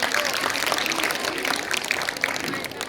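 Dense, steady audience applause fills a hall at an Iqra Education Society school gathering, many hands clapping together loudly and continuously throughout, with no pauses.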